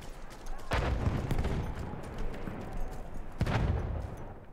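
Pistol gunfire in the World War I shooter Battlefield 1, two sharp shots standing out over a constant rumble of battle noise, with heavy gunfire continuing between them.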